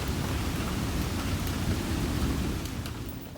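A thunderstorm on a farm, with heavy rain pouring steadily and a low continuous rumble of thunder filling the whole stretch, loud and close with no voices.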